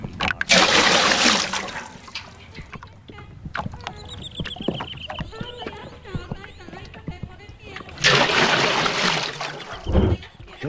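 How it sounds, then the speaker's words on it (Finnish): Water is scooped and hauled from a lake at the end of a pier in a sauna video game, with splashes and sloshing bursts at the start and end and quieter dripping and knocking sounds in between. "Se pitää lähteä vettä nostamaan tuolta laiturin nokasta."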